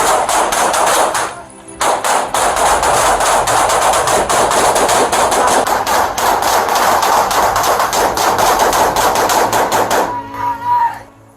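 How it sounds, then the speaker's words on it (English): Police exchanging gunfire with an armed man, rapid dense bursts of loud sharp shots in quick succession with a brief gap early on, then trailing off into quiet at the end. "Police immediately returned fire."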